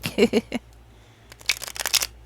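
Papery riffles and soft snaps of tarot cards being shuffled in short bursts, close by, with a quiet pause between.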